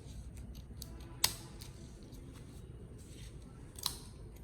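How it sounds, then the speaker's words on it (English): Scissors snipping a piece of paper while making paper AirPods for kids, heard as two sharp, isolated cuts about two and a half seconds apart over a faint, quiet room background. "Okay, now I'm going to cut that piece, this piece."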